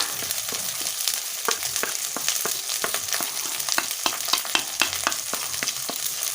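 Steady frying sizzle with repeated spoon scrapes and clinks in a pan as a potato, cauliflower and egg curry is stirred with salt and turmeric, close and continuous with no talking.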